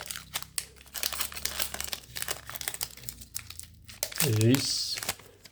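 Foil booster pack of Pokémon Sun and Moon cards ripped open by hand, a short crinkling tear near the end amid rustling of packaging, with a person talking throughout.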